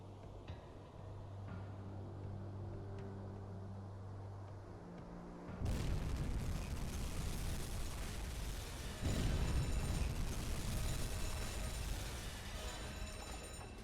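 Torpedo hits explode against a ship in the submarine game UBOAT. A low hum gives way to a sudden heavy blast, then a second rumbling explosion, and a sustained roar of debris follows.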